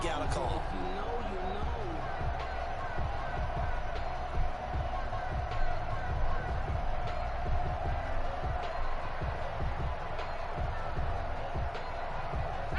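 A home crowd at a football game keeps up a broad, steady murmur and roar in the stands as its reaction to a call swells, heard under a commentator talking.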